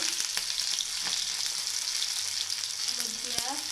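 Chopped onion and green chilli with black cumin and salt frying in a pan, a loud steady sizzle close up with a few light stirring knocks and a brief faint voice near the end.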